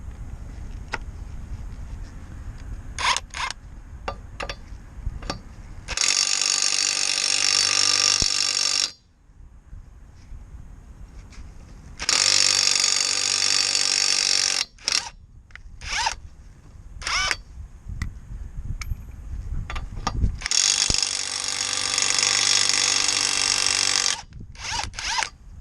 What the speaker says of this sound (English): we're going to be using the TMG impact wrench